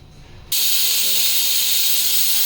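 Pressure cooker whistle releasing steam while chicken cooks, a sudden loud continuous hiss bursting in after a quiet half-second of low simmering and holding steady to the end.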